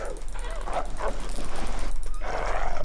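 A dog in the survival video game The Long Dark gives two short bursts of yipping, whimpering barks over a low steady background hum.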